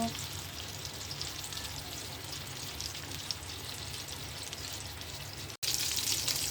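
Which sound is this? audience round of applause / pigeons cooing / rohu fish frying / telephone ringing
rohu fish frying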